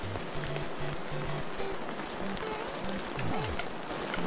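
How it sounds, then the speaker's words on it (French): Rain falling in the Famicom game Super Mario Bros. 2, a steady dense patter that fills the whole stretch at fairly loud level, with small in-game beeps and effects sounding over it. "Attention, il pleut, il pleut, il pleut, il pleut."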